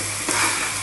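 Food frying in a pan on a lowered flame is stirred, giving a brief steady sizzle with a soft scrape near the middle and no voices.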